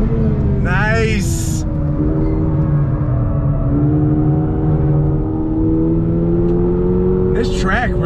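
2022 Toyota GR86 engine on a track, a loud, steady rising drone as the car accelerates through the rev range, heard from inside with people talking over it and brief squeaks at the start and end.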